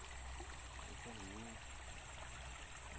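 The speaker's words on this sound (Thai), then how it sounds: "น้ำไหลไป" Steady rushing of a flowing stream fills the clip, a constant broadband wash with a faint tonal warble partway through.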